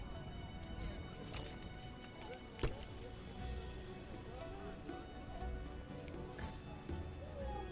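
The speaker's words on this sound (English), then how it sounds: "Downpour." Rain falling in The Witcher video game, a soft steady patter with scattered sharper drops and faint hoof clip-clops, quiet and continuous.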